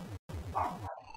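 Dogs barking in a home during a game stream, a quick run of rapid, fairly loud barks in a steady rhythm, briefly cut by a short silence, with no talk over them.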